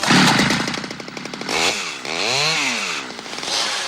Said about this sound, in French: C'est pas que j'ai quelque chose contre les tronçonneuses.